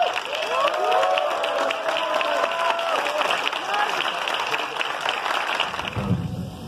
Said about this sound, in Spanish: Por ello les pido un aplauso